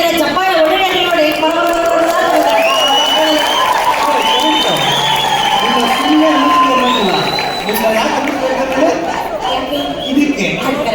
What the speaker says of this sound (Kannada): ಇದೇ ನಮ್ಮ ಕರ್ನಾಟಕದ ಕನ್ನಡಿಗರು ಎಷ್ಟು ಜನ ಇದ್ದಾರೆ ಚಪ್ಪಾಳೆ ಹೊಡೆಯೋದು ನೋಡಿ.